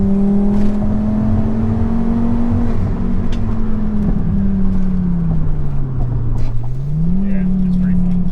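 A modified Volvo accelerates hard down a straightaway, heard from inside the cabin as a loud, steady engine drone with its pitch rising and falling as it pulls through the gears.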